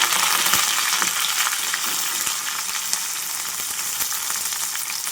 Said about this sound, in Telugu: వేసి అటు ఇటు కొంచెం తిప్పుకొని ఫ్రై చేసుకోవాలి.